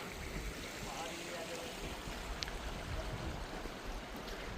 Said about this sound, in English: Just hear the water.